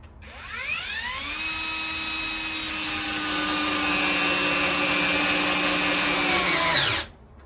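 A cordless electric screwdriver in screw setting spins up driving a small screw, holds a steady high whine for several seconds, then stops abruptly. It is close and fairly loud, with no one talking.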